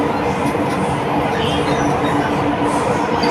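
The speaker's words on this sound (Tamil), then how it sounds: "மெட்ரோ ட்ரெயினில் போய் பார்ப்போம்." Chennai metro train running, heard from inside a carriage as a steady, loud rumble with faint rail clatter throughout, and no talking.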